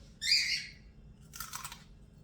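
Crisp crunching bites of raw bok choy close to the mic, two short chewing bursts separated by a brief pause over a quiet room background.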